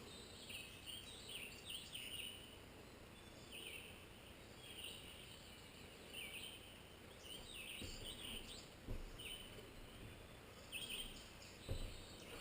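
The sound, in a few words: birds singing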